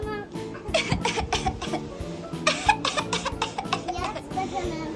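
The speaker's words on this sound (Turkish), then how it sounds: "Sen şu an öksürüyorsun." A sick young girl coughs in a series of short, harsh bursts, with a voice and some background noise in between.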